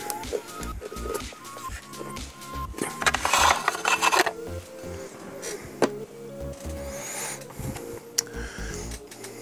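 Small handling noises as the screwed-down cover of a MegaSquirt engine ECU is lifted open, with a stretch of scraping and rubbing in the middle and light clicks and taps throughout, close and fairly quiet.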